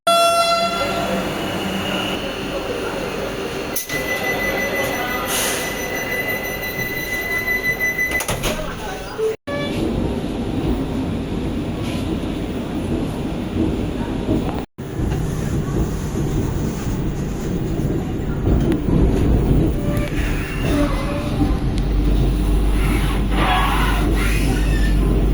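Vande Bharat Express on the Madurai–Bangalore run pulling into Trichy station: a steady rumble of rolling stock and platform bustle with horn-like tones, under talk from a voice in the clip.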